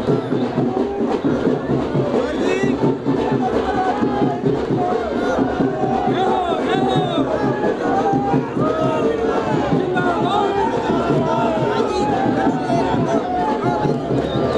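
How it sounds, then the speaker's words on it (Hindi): Large crowd at an election campaign rally in Ratangarh, Rajasthan, near the clock tower on Sabzi Mandi road, a loud, dense roar of many voices with shouting and chatter that carries on without pause. "समर्थन में उमड़ी भारी भीड़ आप देख रहे हैं।"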